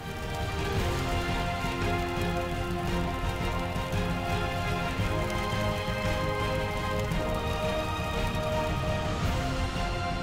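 Hail falls steadily during a hailstorm in the Icelandic mountains, a dense, constant patter of small icy impacts on surfaces, loud and close with no talk.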